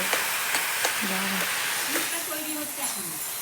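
Pitha cakes fry in a pan with a steady close hiss and sizzle, while faint voices and a few tonal sounds rise above it.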